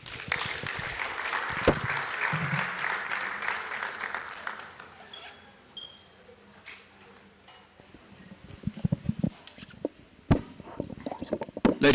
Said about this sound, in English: please a louder round of applause